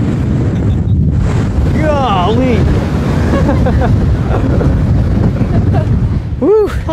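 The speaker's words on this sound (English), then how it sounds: "Gosh, that was windy." Strong wind buffets the microphone at a high cliff edge, a loud continuous roar, while a voice calls out with rising whoops over it.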